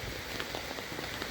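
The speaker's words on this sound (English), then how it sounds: "Rain picked up." Steady rain patters and hisses at a campsite during a flood, a dense, continuous wash of drops striking surfaces with no voices over it.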